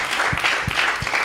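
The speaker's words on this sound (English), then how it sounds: "Round of applause, please." Audience applause closing a film podcast show, a steady broad wash of clapping from a crowd, fairly loud and continuous with no speech over it.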